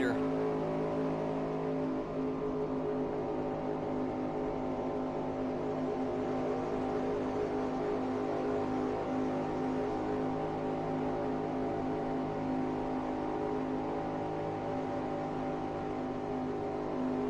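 Race car engine from the 1965 Permatex 300 droning steadily for a long stretch, a sustained mid-level roar with little change in pitch that suggests distant or continuous traffic rather than a single sharp pass.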